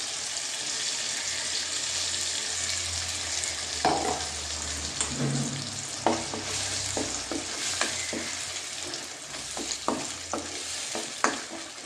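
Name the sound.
fish with masala frying in a pan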